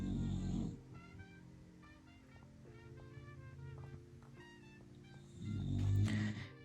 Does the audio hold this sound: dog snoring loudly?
yes